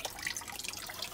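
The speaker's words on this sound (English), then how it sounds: "You can hear in the background the water feature I built." A homemade garden water feature trickles into a goldfish pond, a soft, continuous splashing and dripping heard faintly from a short distance, with no talking.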